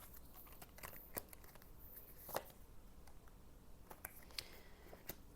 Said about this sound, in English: One more shuffle for Libra.